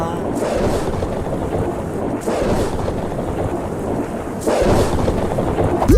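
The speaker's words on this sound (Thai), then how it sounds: "เสียงฟ้าผ่า" Deep rolling rumble of thunder under steady rain and wind noise, with a couple of swells in loudness and no clear voices.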